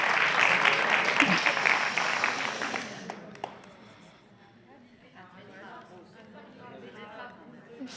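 A seated audience at a French talk on an edible school garden breaks into brief, lively applause that cuts off after about three seconds, leaving a quiet room with low murmuring and a voice speaking afterward.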